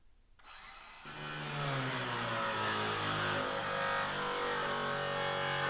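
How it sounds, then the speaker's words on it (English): A battery-powered power tool cuts into a big, stout sheet of metal for a Saturn skid plate, starting after a brief pause and then running as a loud, steady, harsh grinding whine with ringing metallic overtones. "we're going to cut on this big sheet of metal right here and make a skid plate out of it"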